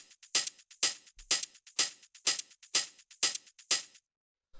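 Hi-hat samples from a minimal tech house track, playing alone as eight crisp, evenly spaced bright hits with short decaying tails, steady and close, ending in a brief pause before one more hit.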